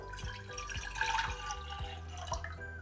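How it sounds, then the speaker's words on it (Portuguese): Water is poured into a small saucepan to start a sugar syrup for plums, a steady trickling and dripping pour up close with no talk over it. "Vou colocar aqui na panelinha água"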